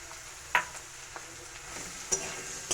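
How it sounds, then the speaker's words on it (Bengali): Chopped onions going into hot oil with garlic in a pan, giving a steady low sizzle with a few sharp spoon-against-pan clicks, close and fairly quiet. "এখন দিয়ে দিচ্ছি কুচিয়ে রাখা পেঁয়াজ"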